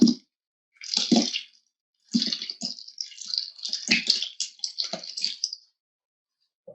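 Thick rebatched cold process soap being poured into a mold, heard as intermittent wet glops, splats and squishy drips close up, separated by brief silences.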